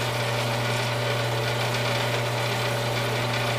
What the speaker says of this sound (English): now I'm just trying to cut it off here. Taking a little time going through some 2-inch steel with this